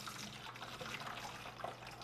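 Tap water pours from a gym water bottle into a larger container in one steady, continuous stream lasting a couple of seconds, quiet and close, with no talking.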